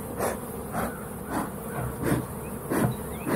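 Bees swarm around a converted ambulance-to-RV, buzzing steadily and close, with louder surges as individual insects pass near.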